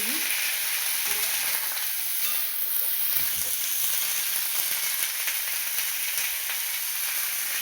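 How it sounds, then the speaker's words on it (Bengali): Ingredients for a rui fish and cauliflower cumin curry fry in a pan with a steady, close hiss and sizzle that runs throughout, with faint stirring scrapes mixed in. "ভেজে ভেজে নেবো।"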